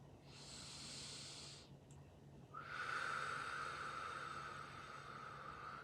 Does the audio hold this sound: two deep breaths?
yes